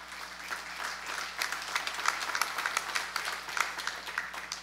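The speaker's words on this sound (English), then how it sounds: "You need to give the Lord a hand clap for that." A church congregation claps their hands, a moderately faint wave of applause that swells and becomes more rhythmic and accented toward the middle, with a low steady hum beneath.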